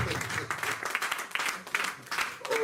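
A congregation applauding during a Christian worship service, with sustained, dense clapping and crowd noise that rises and falls in waves for the whole stretch.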